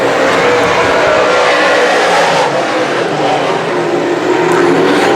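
Modified race cars roar loudly and continuously around the turns of Can Am Speedway. A dense engine drone at a short-track race holds at a steady level throughout.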